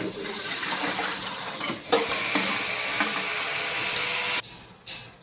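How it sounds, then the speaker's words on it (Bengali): Peeled palm fruit is rinsed in water, giving a steady, close splashing and sloshing wash with a few sharper knocks, then a sudden drop to near quiet with one short final splash. No one talks. "আমি তালটা এখন ধুয়ে নিচ্ছি।"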